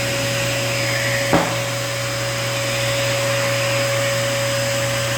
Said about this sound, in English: getting a blow dryer and then just brushing the coat as you're blow drying will help get those curls out.